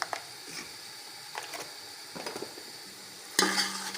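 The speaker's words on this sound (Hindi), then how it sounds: "अब इसको स्पाइसेस डाल के भूनेंगी।" Soft sizzling of ginger, garlic, salt and white cumin in a pan with intermittent stirring clicks and scrapes, ending in a louder burst of frying.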